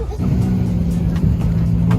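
A Nissan Skyline GT-R's aggressive engine idling at a car meet, a steady loud low rumble that stays throughout with faint crowd chatter behind.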